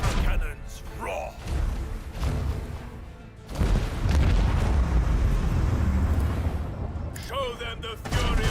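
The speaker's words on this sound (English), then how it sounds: "want to hear the macro cannons roar." Macro cannons booming in the space-combat game Warhammer 40000: Rogue Trader, a few heavy rumbling blasts and thuds rolling into a sustained roar, partly overlapped by spoken voices.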